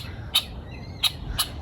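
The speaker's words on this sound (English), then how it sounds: "Oh, two birds." Birds call near a walking trail, giving three sharp, high chirps spaced irregularly over a quiet outdoor background, fairly close and clear, with no speech.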